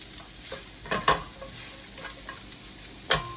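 Vegetables and broccoli sizzle steadily in a stir fry pan as they are stirred and sweated down, a close crackling fry broken by a few sharp scraping clinks of the utensil.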